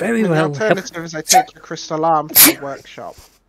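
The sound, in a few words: a person sneezing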